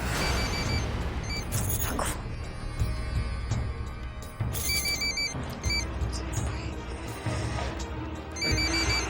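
A phone rings again and again in a Hindi TV drama scene, bright repeated ring bursts recurring over a busy, loud background of music and noise.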